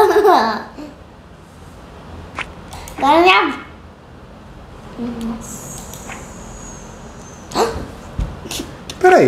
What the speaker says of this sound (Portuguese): Barulho de cachorro.